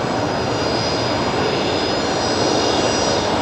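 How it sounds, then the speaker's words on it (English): Qantas Link Embraer jet at Brisbane Airport producing a loud, steady broadband engine roar with a faint high whine, continuous and close throughout. "Here we go, the Qantas Link Embraer."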